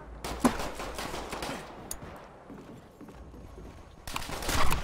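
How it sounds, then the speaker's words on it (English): Gunfire from a Call of Duty 5 match, with two players shooting at each other through a wall: sharp bursts of shots at the start and again more loudly at the end, with quieter game noise between them. "Both of us were shooting through a wall."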